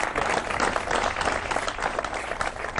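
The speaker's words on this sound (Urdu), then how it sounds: "ایک تالی ہو جائے بہت ماشاءاللہ" Studio audience at a television talk show gives a short burst of dense clapping, moderately loud and continuous for a few seconds.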